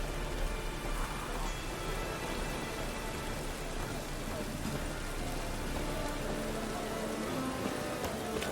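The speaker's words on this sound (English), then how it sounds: "Looks like rain." Rain falls steadily in The Witcher 3: Wild Hunt, a soft, even hiss of drops spread evenly across the moment without pauses.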